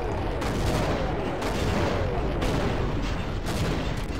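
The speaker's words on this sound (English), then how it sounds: "the explosions in the actual game weren't this lively" Explosions and gunfire from Half-Life: Uplink played in Sven Co-op, with loud booms repeating about once per second over a dense layer of shooting.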